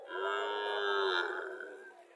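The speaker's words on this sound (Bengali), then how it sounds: "পিজিএম জাতের সার বাছুর।" A 10-11-month-old PGM breed bull calf lets out one long, drawn-out moo close by, its tone wavering before trailing off.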